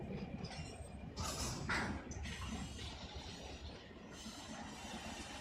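Freight train rolling along the track in the Run 8 train simulator game, a steady low rumble with faint clicking wheel noise running throughout, fairly quiet and continuous.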